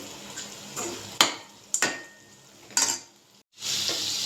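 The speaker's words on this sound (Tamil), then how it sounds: "இது எல்லாத்தையும் நல்லா எண்ணெயில் பரட்டிக்கலாம்" Masala with turmeric sautéing in oil for cauliflower masala, a soft sizzle under several sharp scrapes and clicks of a spoon against the pan, then a louder burst of frying.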